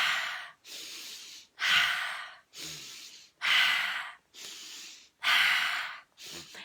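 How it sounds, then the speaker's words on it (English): A person taking slow, deep breaths in a guided breathing exercise, a steady rhythm of long airy inhales and exhales, each lasting about a second, close and clear, with brief pauses between them. "So we're breathing in."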